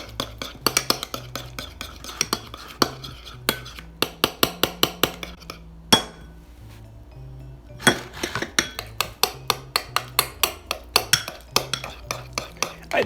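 A utensil scrapes and clinks against a bowl as potted meat is mixed by hand with paprika, giving rapid rhythmic taps in bursts with a brief pause midway.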